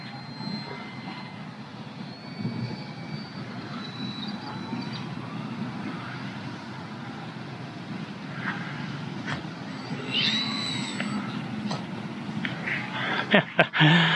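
A Durafly Tundra V2 RC plane with an APM flight controller comes in to land, its motor giving a steady faint drone over wind and outdoor noise, ending with a few sharp bumps as it touches down.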